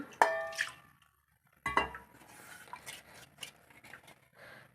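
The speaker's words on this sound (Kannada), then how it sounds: "ಈಗ ಒಂದು ಸ್ವಲ್ಪ ಎಲ್ಲ ಪಾತ್ರೆಗಳನ್ನು ತೊಳೆದು ಹಾಕೋತಾ ಇದ್ದೀನಿ" Metal pots and dishes clank sharply in a home kitchen sink, with two distinct clangs followed by lighter clinking, scraping and splashing of water, close and fairly quiet.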